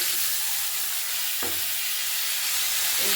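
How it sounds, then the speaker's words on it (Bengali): Vegetables, new potatoes and carrots with turmeric and salt, frying in a little oil in a pan, giving a steady close sizzle with a couple of brief stirring scrapes, no talk. "একটু নুন হলুদ সব দিয়ে একটু ঢেকে ঢেকে আধা ভাজা মতন করব।"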